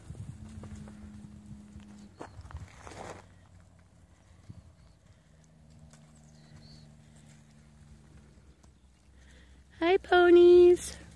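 Wild Nevada mustangs approach on foot with soft, scattered hoof steps over faint ambient noise, and a loud whinny breaks out near the end.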